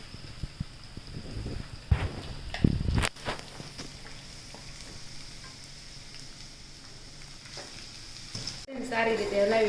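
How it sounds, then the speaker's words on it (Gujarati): Crushed pigeon peas go into a pan with sesame seeds for a lilva kachori filling; a few sharp scrapes and clatters as they are added and stirred, then a soft sizzle continues. "હવે આપણે એમાં નાખીશું આપણી તુવેર જે ક્રશ કરેલી છે."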